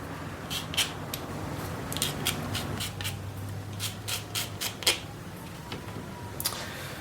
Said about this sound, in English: just sand the edges off